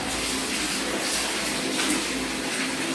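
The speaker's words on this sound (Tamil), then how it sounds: "ரெண்டு பேர் தண்ணி மோந்து மோந்து ஊத்துறாரு" Water scooped and poured over a child during an outdoor bath, a loud, steady gush and splash running without a break, close by and with no talking.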